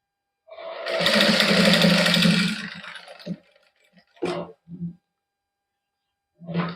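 A sewing machine stitching a suit fabric runs in one loud, close, continuous burst of about two seconds, then tapers off, followed by a few short separate clicks and thumps of handling.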